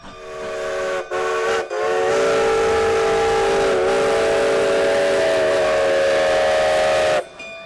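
A Cumbres & Toltec Scenic Railroad steam locomotive sounds a long, loud, steady whistle for several seconds after a couple of brief opening toots, with the engine's running noise close by.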